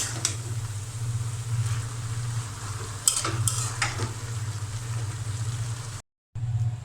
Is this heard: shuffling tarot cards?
no